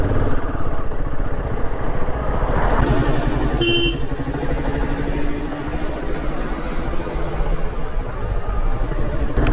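Royal Enfield Himalayan 450 motorcycle engine idling after a ride, a steady close low rumble with clattery texture throughout and a brief brighter tone partway through.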